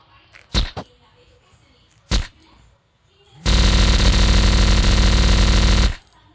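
M4A1 rifle fire in a gun simulator game: two brief separate shots, then a dense, loud sustained automatic burst lasting a few seconds before cutting off.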